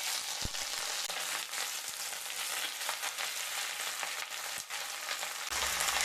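Chopped cabbage tossed into hot oil with dried red chilli and black cumin seeds sizzles and fries steadily and loudly for the whole stretch, with a few stirring clicks.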